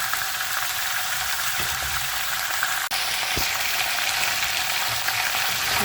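Chicken frying in a karahi pan, a steady, close, dense sizzle running the whole time with a couple of soft clicks from stirring and no voices.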